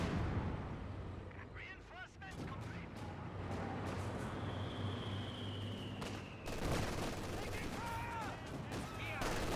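In Company of Heroes 2, a mortar half-track fires amid a busy battlefield, with dull booms and scattered explosions mixed with distant gunfire and a steady rumble. A commentator talks over the action throughout.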